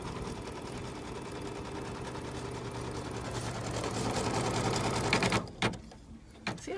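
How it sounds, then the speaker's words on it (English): Embroidery machine stitching a placement line on fabric for appliqué, a rapid steady mechanical clatter that runs continuously and then stops abruptly, followed by a couple of short clicks. "it's just stitching a placement line so I can put the next piece on"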